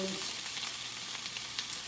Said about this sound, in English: It's gonna really make lots of sizzling sounds.